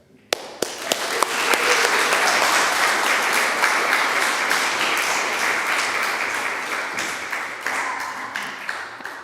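An audience at a poetry reading bursts into applause to welcome a poet, a few sharp early claps swelling into sustained dense clapping that slowly tapers off.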